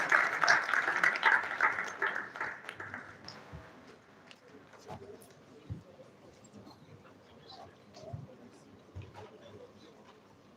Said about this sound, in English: I think the round of applause should be louder